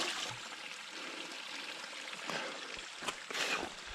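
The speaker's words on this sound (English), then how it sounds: "Seemed like a good place to get some cool water. Dunk my hat a little." Water sloshes as a hat is dunked into a cool mountain stream on the Mt. LeConte trail in the Great Smoky Mountains, a steady close rush of flowing water with brief splashes near the end and no talking.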